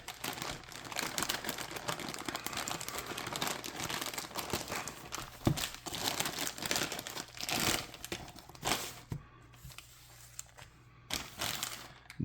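Plastic wrappers torn and crumpled off 1982 Donruss baseball card packs, a steady close crinkling and crackling that runs for several seconds with brief louder rustles and short quiet gaps.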